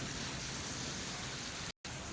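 Heavy summer rain pours down steadily onto trees and the ground, a loud dense hiss with one brief dropout near the end.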